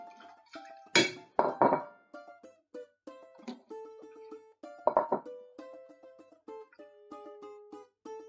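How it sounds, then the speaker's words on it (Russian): Scattered clinks and knocks of metal cookware and utensils as beef kidneys are moved into a pot of water, irregular and close, with faint watery sounds between the taps. "Перекладываем все почки в кастрюлю с водой"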